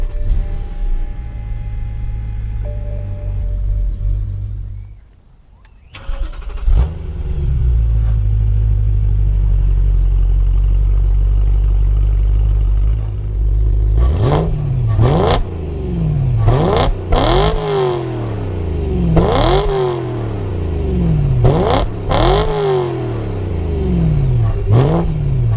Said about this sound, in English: go ahead and start her up